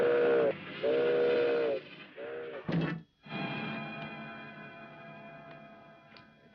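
A steam train whistle blows in long, loud, tonal blasts, then breaks off. A sharp clank follows, and a steady hissing, rumbling rail sound carries on under it.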